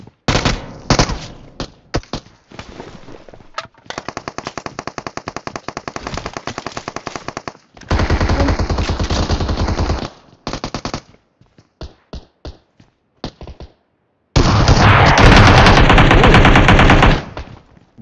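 Rapid automatic gunfire bursts in PUBG Mobile, a mix of long sustained sprays and short clipped volleys separated by brief silences, loud and close with no talking.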